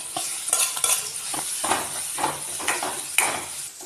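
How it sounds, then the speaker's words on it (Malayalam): Bilimbi (elambakka) frying in hot oil in a pan, a bright close sizzle with bursts of stirring and scraping of a utensil against the pan, uneven and busy throughout. "അതിലേക്ക് നമുക്ക് ഇളമ്പക്ക ഇട്ടെടുത്തൊന്ന് ഫ്രൈ ചെയ്തെടുക്കാം."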